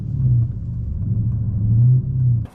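A catless SRT car engine revs in a low, steady rumble while stuck in snow, rising and falling in pitch as it strains without moving much, then cuts off abruptly.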